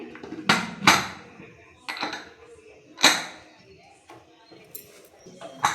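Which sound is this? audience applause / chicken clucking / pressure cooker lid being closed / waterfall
pressure cooker lid being closed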